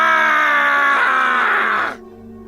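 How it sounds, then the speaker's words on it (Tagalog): A loud, horrifying scream from a dark creature in a dramatized scene, one sustained anguished cry that wavers in pitch for about two seconds before breaking off abruptly, leaving a low rumble. "Isang malakas at nakakakilabot na sigaw ang umalingaw-ngaw"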